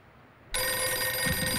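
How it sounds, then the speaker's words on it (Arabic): After a brief near-silence, a telephone bell starts ringing loudly and continuously in an Egyptian comedy film scene, with a faint low thud near the end. "تليفون."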